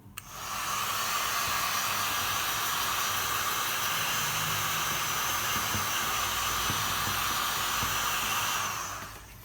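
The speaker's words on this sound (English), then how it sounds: "I'm going to use my heat gun again." Heat gun blowing hot air across an acrylic pour painting for a fluid art piece, a steady, loud, close rushing hiss that holds evenly for about nine seconds with no talk.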